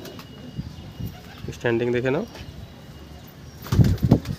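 A pigeon in a loft gives a single short rolling coo, with faint rustling around it and a voice talking nearby near the end.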